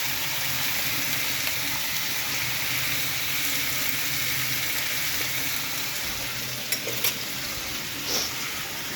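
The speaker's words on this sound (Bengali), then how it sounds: "মাছটা ভাজা হচ্ছে।" Fish frying in a pan, a steady crackling sizzle throughout with a few light clinks of a utensil near the end, no voices.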